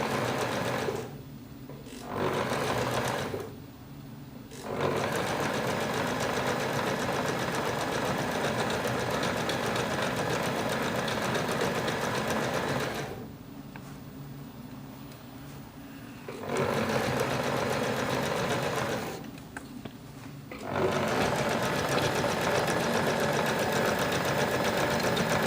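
A sewing machine stitches the edges of a fabric bag in loud, rapid mechanical bursts, stopping briefly several times between runs of steady chattering.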